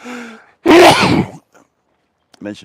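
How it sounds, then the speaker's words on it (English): A single sharp, loud sneeze bursts out after a short voiced intake, followed by brief quiet breaths and a short vocal sound. "Oh, I'm sneezing as well."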